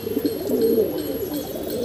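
A pigeon coos in a short, loud, close burst of soft rolling calls with no talking over it, recorded where other pigeons are flying about.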